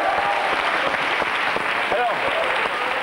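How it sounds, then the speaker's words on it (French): A studio audience at a French television show claps steadily throughout, a dense, even round of applause from the crowd with no break. "Je vous demande d'applaudir Mathieu Ducré."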